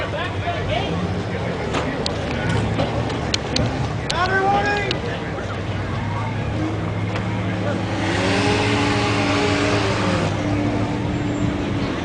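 Engine of an off-road rig crawling through a steep off-camber obstacle section at a Class 4 event, revving and surging in rising and falling tones, with people talking nearby and outdoor crowd noise.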